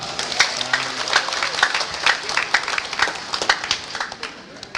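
A church congregation claps together during a Simbang Gabi homily, a dense patter of many hands at fairly close range that swells and fades in short bursts, with murmuring voices underneath.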